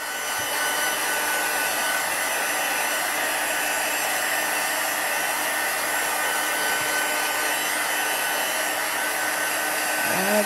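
A hair dryer blows on a handmade fairy or wizard wand, a loud, steady, high-pitched whir that runs unbroken from start to finish.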